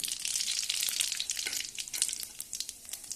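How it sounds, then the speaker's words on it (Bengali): Whole cumin seeds hit hot oil for dal and sizzle sharply up close, a bright spitting crackle that is strongest at first and then thins into scattered pops. "তেলটা গরম হয়ে গেছে ডাল রান্না করার জন্য দিয়ে দিচ্ছি গোটা জিরে"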